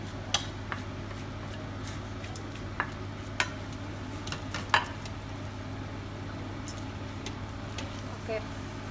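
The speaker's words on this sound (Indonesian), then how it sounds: "kita aduk" Ingredients for Sundanese nasi liwet are stirred in a pan, with soft scraping and scattered utensil clinks over a steady low hum, close and fairly quiet.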